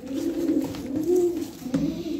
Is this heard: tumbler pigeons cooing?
yes